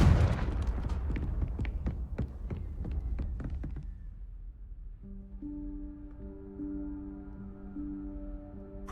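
A Confringo blasting spell goes off in the Hogwarts Legacy video game, a rapid series of loud booming impacts over a rumbling low end, fading into a sustained droning hum with soft tonal music afterward.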